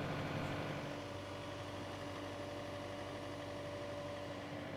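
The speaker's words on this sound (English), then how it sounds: "Start the engine and raise the cutting unit." A John Deere 9009A TerrainCut rough mower engine runs at a steady idle, a low even drone with a constant tonal hum, quiet and uninterrupted with no voices.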